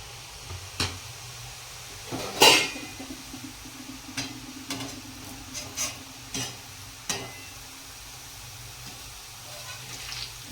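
Spinach-mint sev dough pressed into hot oil on a low gas flame: a soft, steady sizzle of frying under scattered clicks and clatters of utensils, fairly quiet overall with a few sharper knocks.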